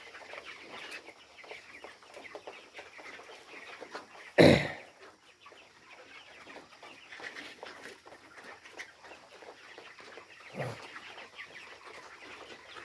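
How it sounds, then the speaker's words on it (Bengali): Hundreds of chickens in a poultry shed, a busy flock clucking and murmuring continuously while feeding, with one loud close squawk partway through and a fainter call later. "মুরগি খাবার খাচ্ছে ভাই"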